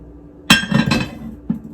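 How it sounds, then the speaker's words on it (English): Fermentation weights being lifted out of a jar of watermelon rind pickles: a sharp glassy clink, then a short cluster of knocks and rattles, and one more lighter clink about a second later, all close and without talk. "I'm just taking my weights out of it, and you just want to rinse those off"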